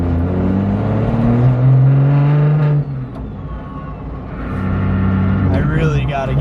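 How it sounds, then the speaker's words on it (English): A 750 hp BMW 135i with a T51R turbo pulls hard from inside the car, its engine note climbing steadily, dropping at a shift, then building again with a whistling whir, while someone talks over it. "turbo spools up with that T51R mod"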